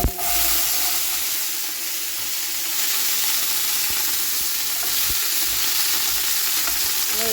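Whole spices crackle and sizzle in hot oil as a tempering for plum chutney, a steady close frying hiss with faint stirring scrapes, continuous and loud with no talking.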